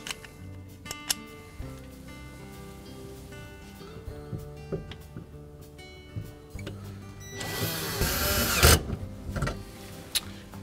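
A power driver whirs in short bursts, ending in one louder sustained run, as screws go into the shelf brackets inside a Frigidaire refrigerator, with small clicks and tool handling in between, fairly quiet.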